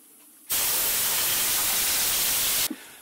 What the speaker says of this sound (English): We're going to hit it with an air hose now, get all the brake dust off.